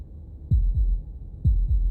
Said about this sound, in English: That was the sound of a heartbeat,